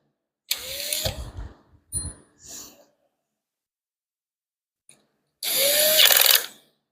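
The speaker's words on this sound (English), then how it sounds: "Well, what am I drilling with?" A handheld power drill whirs in two bursts during a build of a test stand for a 6.4 Hemi engine, spinning up with a rising whine, pausing through a stretch of near silence, then running again briefly.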